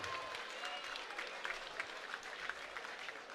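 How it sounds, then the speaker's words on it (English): A crowd at a championship kickboxing bout applauds steadily with scattered sharper claps, moderately distant and filling the whole span. "a round of applause for 2 great fighters and 1 great championship bout"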